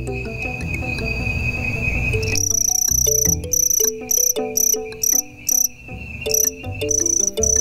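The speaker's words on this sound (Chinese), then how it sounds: "蟋蟀的雄虫利用前翅互相摩擦，可以发出鸣声。" A male cricket chirps by rubbing its forewings together, first as a steady high trill and then as repeated, sharply pulsed bursts, loud and close with no voices.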